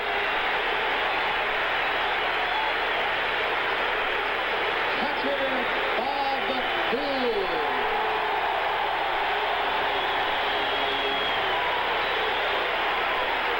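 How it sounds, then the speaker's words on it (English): Dense stadium crowd at a 1970s Major League Baseball All-Star Game cheering the first-place Phillies, a broad steady roar of applause and shouting throughout, with a public-address announcer speaking over it. "listen to the crowd cheering the Phillies in first place with a 10-game lead at the halfway mark"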